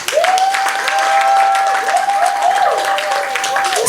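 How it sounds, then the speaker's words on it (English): A church congregation applauds during a sermon, sustained clapping from a crowd filling the room, with a voice speaking over the applause. "Can we clap for them?"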